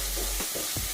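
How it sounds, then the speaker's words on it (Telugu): Mint and coriander rice masala fries in a pan with a close, steady sizzle and two quick scraping stirs of a spoon within a second, no voices. "ఇంకొక 2 మినిట్స్ ఫ్రై అయితే సరిపోతుంది."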